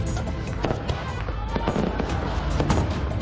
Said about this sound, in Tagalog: Nagliwanag ang kalangitan sa makukulay na fireworks sa Oroqueta City sa Misamis Occidental